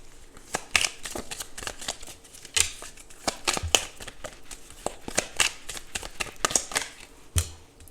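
Tarot cards shuffled by hand up close, a quick run of crisp riffling snaps and flutters with irregular bursts and brief pauses, no voices.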